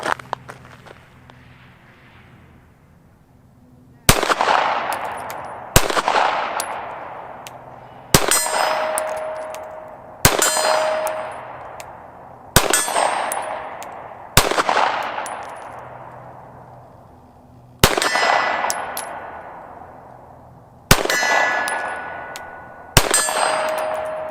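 Pistol shots ring out at a steel target 30 yards away, about ten sharp cracks, each followed by a ringing metallic clang, spaced a second or two apart after a quiet opening.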